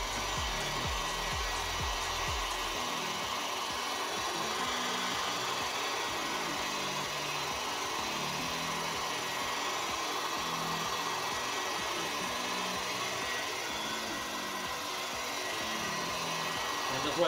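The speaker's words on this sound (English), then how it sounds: "you're going to need a heat gun and get some heat on it" A heat gun blows hot air over a headlamp lens to soften the glue, a steady close whooshing hiss that runs unbroken for the whole stretch.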